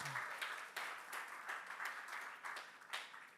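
Convention audience at a social media event clapping steadily, a faint, distant patter of many hands with irregular swells throughout.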